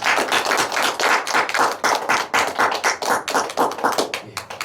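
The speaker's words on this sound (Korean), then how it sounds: "우리 하나님께 영광의 박수 드립니다." A congregation claps together during a Wednesday church service, producing a rhythmic run of close, sharp claps in quick succession with no talk.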